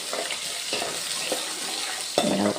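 Mustard seeds, fenugreek, ginger, garlic and green chili frying in hot oil for pickle, a steady close sizzle with a few scraping stirs of the spoon through the pan, no talking.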